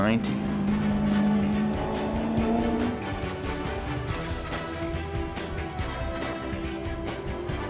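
A Maserati GranTurismo Coupe Stradale V8 roaring steadily while driving, a loud sustained engine note that rises and shifts pitch, heard from inside or close by with talk over it.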